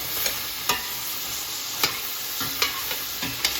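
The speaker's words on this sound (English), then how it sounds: "hopefully you can hear me over all the sizzle" Meat sauce sizzles steadily in a hot pan as the water evaporates, with occasional scraping stirs and soft clicks of a utensil against the pan.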